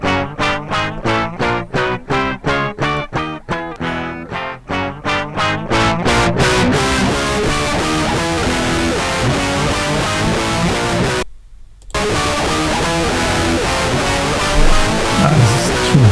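Electric guitar played through a digitally cloned analog distortion pedal: a run of sharply picked, evenly spaced chugging notes gives way to sustained, heavily distorted chords, broken by a short silent gap before the crunchy playing resumes.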